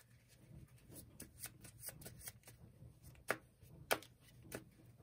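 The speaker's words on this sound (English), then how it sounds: "So door and hallway will get shuffled back into the middle of the deck." Cards of a board game deck being shuffled close by, a quiet series of riffling bursts with two sharper snaps near the middle, no talk.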